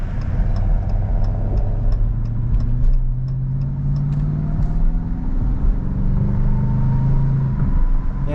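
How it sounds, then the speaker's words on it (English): A 2023 Dodge Challenger R/T Last Call Edition runs smoothly while driving, its low engine rumble rising and falling gently as it accelerates, with faint rhythmic ticking early on. "it's a really smooth engine"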